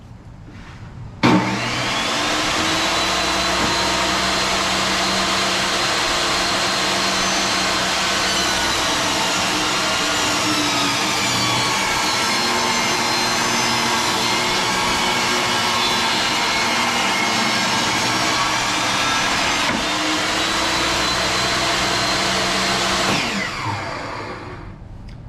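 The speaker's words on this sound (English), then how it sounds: "you got to make sure your table saw is high enough your blade is high enough to go through the size of the wood plus the taper jig" A table saw rips lumber for an Adirondack chair using a taper jig, with a loud, continuous whine of about twenty-two seconds that holds steady through the cut and then spins down.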